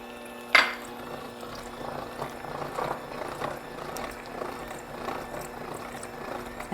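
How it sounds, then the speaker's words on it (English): An electric mixer with rubber-tipped beaters whirs steadily while beating eggs into almond cherry bread batter, with a sharp knock near the start and a soft sloshing texture throughout. "And another thing about this mixer, I'm scraping my bowl actually with the beaters."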